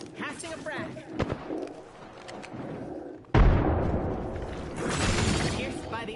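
A frag grenade detonates in a shooter video game, a sudden loud blast midway that leaves a rumbling, crackling tail, preceded by quieter game sounds and scattered clicks.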